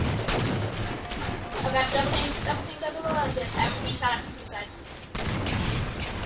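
Light rifle fire in a shooter video game, with rapid bursts of shots close by running through the clip while a player talks over them, sounding alarmed.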